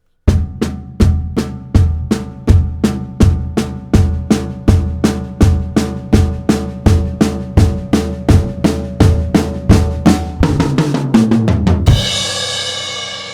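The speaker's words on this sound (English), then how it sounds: "you're playing bass drum, floor tom, and snare drum all at the same time, and they're going to crescendo throughout that entire thing" Bass drum, floor tom and snare strike together in a steady eighth-note drive that swells gradually louder, many even hits in a row, ending on a crash cymbal that rings.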